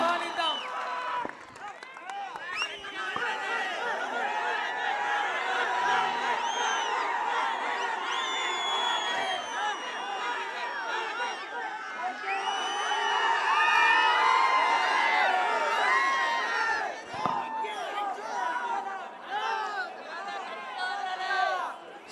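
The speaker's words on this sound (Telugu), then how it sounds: "మన పేర్ని నాని అన్నకి అందరూ కూడా కరతత్వాలతో గట్టిగా చప్పట్లతో" A large outdoor political rally crowd at a ground in Rajahmundry welcomes Perni Nani with sustained cheering, whooping and shouting, a dense, loud, continuous roar of many voices that swells and holds with little break.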